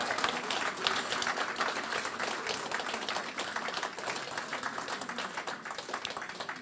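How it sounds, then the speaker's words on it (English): An audience at the Ngai Tahu Hui a Tau gathering gives a round of applause for a speaker, steady dense clapping from many hands that continues evenly for several seconds before easing slightly. "can I get a round of applause, please"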